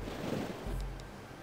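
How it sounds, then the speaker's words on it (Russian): Sea waves wash softly in Heroes of Might and Magic 1, a brief steady rush of surf with a low swell, heard alone and fairly close. "Просто море. И больше ничего."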